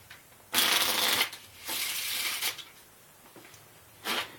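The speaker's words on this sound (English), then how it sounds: "the cards can be shuffled." A deck of playing cards shuffled during a card trick, in three separate riffling bursts of crisp, close flutter with quiet pauses between, no talking.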